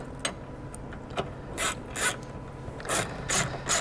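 A ratchet snugs a 10 millimeter bolt on a GM Duramax truck engine, with several short clicking bursts close by and no talk.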